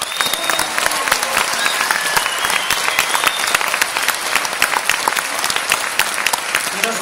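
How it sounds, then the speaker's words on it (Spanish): An audience at a PortAventura Christmas show applauds the dance troupe with dense, loud, continuous clapping and a light crowd murmur throughout. "Y nos gustaría que le dieran un fuerte aplauso también a todos los artistas internacionales"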